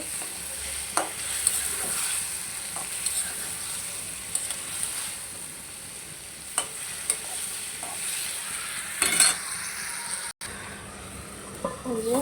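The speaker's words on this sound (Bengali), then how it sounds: "এখন মাছগুলো ভালো করে কষায় নিব" Tengra fish sauté in a pan with eggplant and potato to come, a soft steady sizzle broken by repeated spatula stirring clacks and scrapes, close and fairly quiet.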